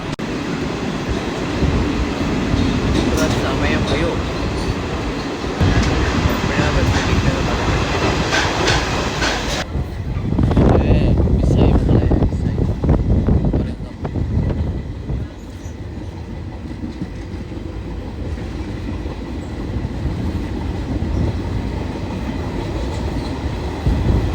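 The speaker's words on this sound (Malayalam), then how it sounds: "അയ്യോ തുരങ്കത്തിൽ നമ്മുടെ വാഹനം കയറി" A passenger train in Maharashtra rumbles through a tunnel, its steady rolling clatter swelling into a louder, boomier roar partway through before settling back to a continuous rattle.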